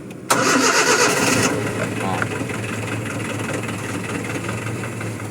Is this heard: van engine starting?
yes